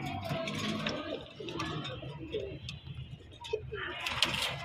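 Racer pigeons coo in a loft, soft murmuring calls rising and falling against a busy background.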